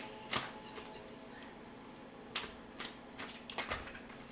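Tarot cards are shuffled for a reading in a series of quiet, irregular riffling clicks and soft snaps, spaced unevenly over a few seconds with no talking.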